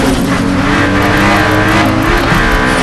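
Loud sports car engine roars steadily on a track, a dense high-revving growl with rising harmonics and a hint of tire noise, heard up close with no talk.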